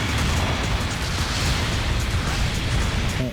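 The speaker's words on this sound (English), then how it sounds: "Your mobile suit has been destroyed." A mobile suit is blown apart in Gundam Battle Operation 2, a dense, loud, rumbling blast that fills the whole moment with sustained low roar and crackle, no pause or fade.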